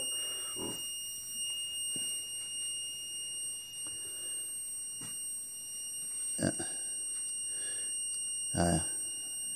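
A steady high-pitched buzzer tone from an alarm repeater panel for fire extinguishing drones continuously, with occasional clicks and brief clunks over a faint background hum.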